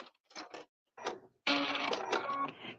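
A sewing machine runs a zigzag stitch through brown Luxe Cuddle faux-fur fabric, first in short separate bursts, then in a sustained fast whirring run near the mic.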